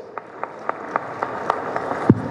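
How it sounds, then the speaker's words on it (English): Sparse, evenly spaced claps sound out at a morning business conference, a thin round of audience applause with a few distinct hand claps over quiet room tone. "Please, with a round of applause."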